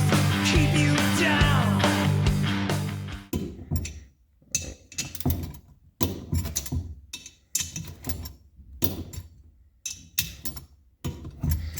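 A torque wrench loosens and re-tightens 13 mm bolts on a 2-stroke mini bike engine swap, producing close, intermittent clicking and ratcheting bursts after a louder initial mechanical noise.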